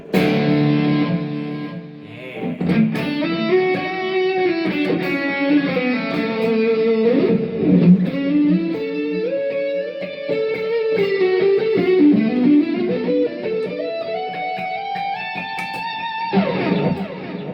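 A distorted electric guitar plays a melodic solo line of bending, sliding notes over a steady backing, loud and continuous.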